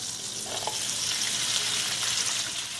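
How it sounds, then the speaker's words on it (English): Shrimp sizzling in melted butter and olive oil in a pan, a constant close hiss of frying that holds steady throughout, with no talking. "As the butter started to melt, I'll bring the shrimp."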